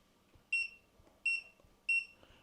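A battery-powered lunchbox timer gives three short, evenly spaced electronic beeps, bright and clear against a quiet background.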